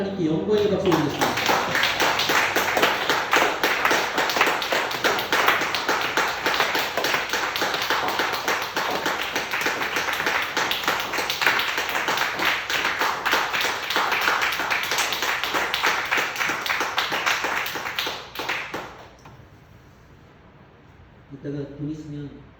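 Sustained applause from a church congregation during a Sunday worship service, dense and loud for about eighteen seconds before fading out, with someone speaking briefly at the start and end.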